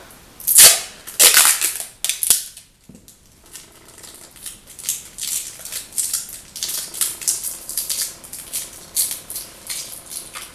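Several strips of tape being torn off a roll, with two sharp rips near the start followed by a lighter run of crinkly tearing and handling noises, close and fairly loud with no talk.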